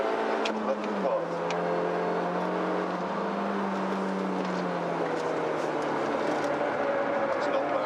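A small car's engine drones steadily from inside the cabin while overtaking a Porsche RS on an open road, the engine note shifting pitch as it pulls past, with someone talking over it.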